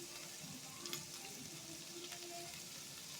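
Chicken chowmein with vegetables and cabbage frying in a pan gives a steady, close, dense sizzle with light crackles, with no voices.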